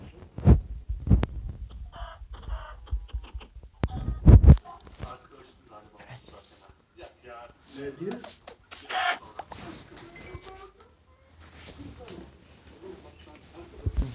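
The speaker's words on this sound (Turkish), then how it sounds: "Tavuk mu la o?" Chicken clucks pop up amid Minecraft game sounds and someone talking in Turkish, short bursts scattered through the clip with thumps and other effects.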